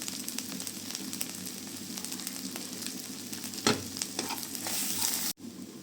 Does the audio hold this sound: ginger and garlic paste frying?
yes